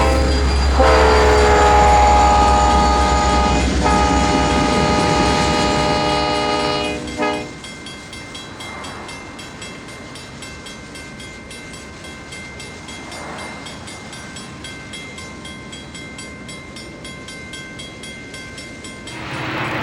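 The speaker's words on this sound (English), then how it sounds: "A Kodachrome FP45 leads this short westbound off of the bridge at Antioch." A Santa Fe FP45 locomotive in Kodachrome paint leads a short westbound train off the bridge at Antioch, with a loud, sustained horn blast followed by a long rolling rumble and faint wheel clatter fading away.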